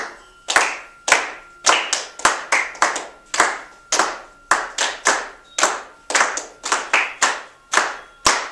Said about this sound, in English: We're going to clap along.